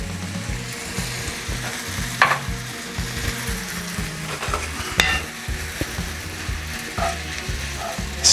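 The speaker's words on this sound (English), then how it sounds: "Stir this sucker up." Seasoned food sizzles steadily in a pan with garlic onion spice blend, with a constant close frying hiss and repeated scraping stir strokes throughout, plus a few sharp utensil clicks.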